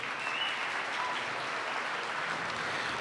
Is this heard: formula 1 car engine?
no